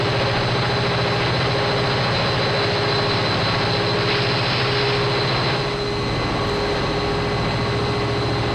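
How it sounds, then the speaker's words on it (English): Engines running in an engine room, a loud continuous mechanical drone with steady tonal hum and dense roar throughout, slightly shifting partway through. "Papa's job is to make sure that these engines run properly."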